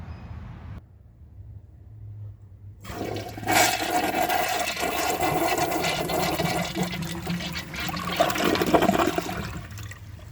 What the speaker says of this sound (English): let's give this toilet a flush and see how it does on tests